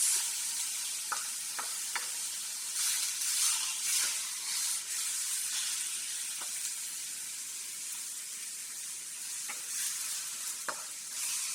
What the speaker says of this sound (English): I'm using minced meat. Okay. So I'm going to stir my meat.